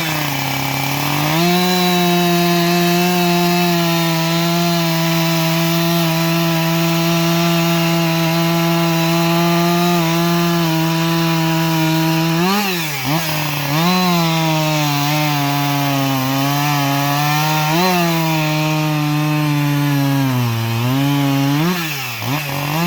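Chainsaw cutting wood cookies, a loud, sustained high-revving engine whine that runs steadily under load, dipping and recovering in pitch several times toward the end, with no talking.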